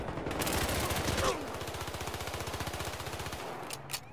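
Video game gunfire: a rapid, steady automatic burst of evenly spaced shots, loud and close, lasting several seconds before cutting off, followed by a couple of faint clicks.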